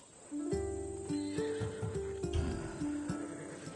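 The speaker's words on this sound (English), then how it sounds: "That horse can cling to mountain passes like a goat." A horse whinnies in Assassin's Creed Odyssey, a loud, close, shaky neigh that rises and wavers over several seconds, with faint hoof-like knocks mixed in and no talking.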